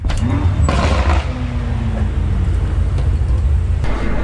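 A BMW car driving, a loud steady interior road and engine rumble with a brief mid-pitched engine note rising and falling, plus occasional soft clicks and bumps, heard from inside the cabin.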